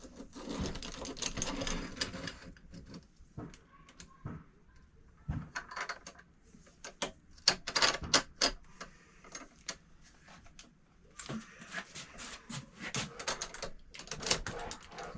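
A Sunnen cylinder hone runs inside a Yamaha Blaster cylinder bore, giving bursts of rapid mechanical chattering and grinding that start and stop, with quieter pauses between runs, close and fairly loud.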